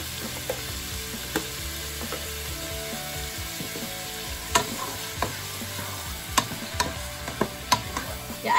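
Bluefish for a fish stew frying in preheated olive oil with ginger, onion and tomato, a steady close sizzle broken by sharp scraping and clicking stirs, with no one talking.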